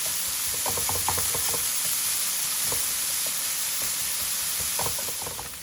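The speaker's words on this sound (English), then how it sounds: "So as you're stirring this bacon" Bacon fries without added oil in a pan, a constant bright sizzle and hiss with scattered soft knocks and scrapes from stirring, close up and fairly quiet.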